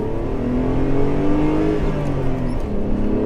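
Renault Clio V6 engine giving a deep, heavy rumble as it accelerates, a steady loud drone with rising tone, close and continuous with no talk.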